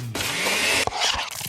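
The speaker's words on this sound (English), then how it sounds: "That's the sound of a smoothie bowl being made fresh" A blender whirs loudly as it mixes a fresh smoothie bowl, with fruit such as bananas, berries and mango. One steady high-pitched grinding roar lasts under a second, then the sound breaks up into rougher chopping pulses.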